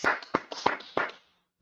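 A few distinct claps from a small audience at an Israelite Bible class, four or five sharp hits spaced roughly a third of a second apart, then silence.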